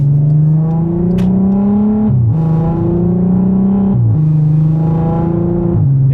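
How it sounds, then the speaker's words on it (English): Straight-piped exhaust of a VW Passat R36 heard from inside the cabin with the windows down, a loud, rising engine drone through three gear pulls, each ending in a brief dip at the shift. "I've got windows down now, so let's just hear what the in-cabin sound"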